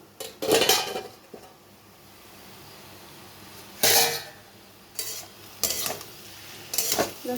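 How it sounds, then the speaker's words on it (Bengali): A lid clanks off a cooking pot of Bengali potato-and-prawn bati chorchori: a few sharp metallic clatters and knocks spaced across several seconds, with quiet kitchen hiss in between. "আমি এখন চাপাটা নামিয়ে নিচ্ছি"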